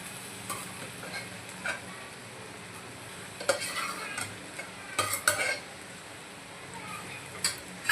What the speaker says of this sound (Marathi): आपण आता यामध्ये पायाची पेस्ट टाकून घेणार आहोत आधी आणि छान मसाल्यामध्ये परतून घेणार आहोत